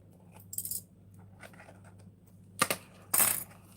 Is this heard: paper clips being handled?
yes